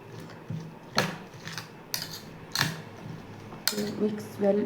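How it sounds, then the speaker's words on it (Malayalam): A metal teaspoon stirring a mango dish, scraping and clinking against the bowl in several distinct sharp taps spaced about a second apart, close and moderately loud. "ഇനി നമുക്ക് ടീസ്പൂണും കൊണ്ട് നന്നായിട്ട് ഇളക്കാം"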